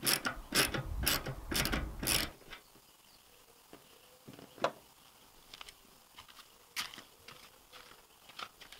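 Ratchet working loose tight spline bolts on a VW T5 front seat, with a burst of loud, rapid ratcheting clicks at first, then scattered fainter clicks and rattles.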